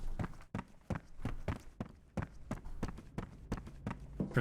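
Flat-footed footsteps in the video game F.E.A.R., a steady run of about a dozen heavy, evenly spaced thuds close up, with no voices over them.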